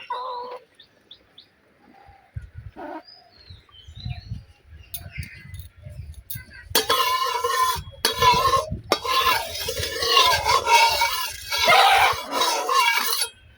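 Lentil badi (dal bori) dropped into hot oil in a pan on a stove, starting quiet with faint scattered crackles, then bursting into loud, steady, close sizzling and bubbling frying from midway to the end.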